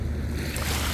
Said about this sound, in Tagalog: Lumakas po yung alon.